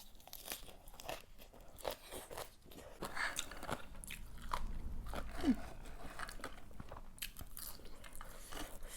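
Someone eats crispy grilled chicken skin from a Thai-style grilled chicken, with close, repeated crunchy bites and wet chewing continuing quietly throughout, with no talking.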